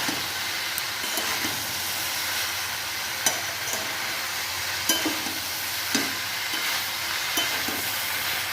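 Chopped vegetables, including capsicum, pointed gourd, ivy gourd and potato, are stirred in a pan with turmeric under a constant hiss of frying, and a spoon clicks against the pan in an irregular rhythm.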